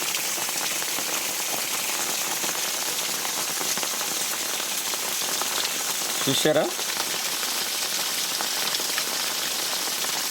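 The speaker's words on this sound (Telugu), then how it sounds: "ప్రజెంట్ వర్షం వస్తూనే ఉంది చూస్తున్నారు మీరు చినుకులు ఇప్పుడు వర్షం వస్తుంది" Rain falls steadily outdoors over fields, a constant close patter of drops, with a short spoken word partway through.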